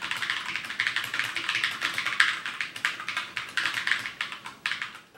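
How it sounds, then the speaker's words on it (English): Rapid, even typing on a Glorious GMMK modular mechanical keyboard with Holy Panda switches, with close, crisp clacking keystrokes in a steady flowing rhythm and no voices. "The typing experience on the GMMK is pretty much identical to other plate-mounted keyboards, even with modular sockets."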